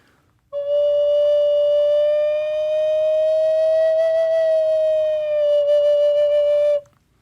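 A single sustained note on a Native American flute held for about six seconds, its pitch drifting slowly upward and back as a finger slides off a hole, played solo with a breathy, steady tone.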